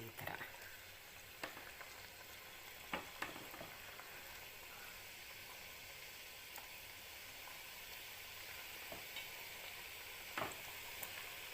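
Diamond-shaped biscuit dough frying in hot oil, giving a steady low sizzle that runs throughout with occasional faint pops and clicks and no talking.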